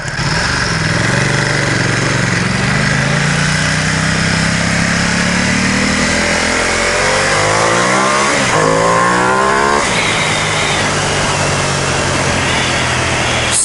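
A Ducati XDiavel motorcycle engine revs loud and close, a continuous throaty roar with rising and falling pitch as the throttle is worked, sweeping up sharply near the end over wind noise.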